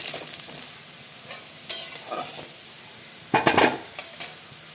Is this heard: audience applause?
no